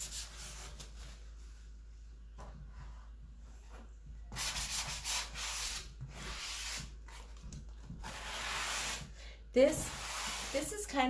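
Coarse 80-grit sandpaper rubbed across a painted surface to strip the paint, coming in several rough, scratchy bursts of a few seconds each, close and moderately loud, with quiet gaps between strokes.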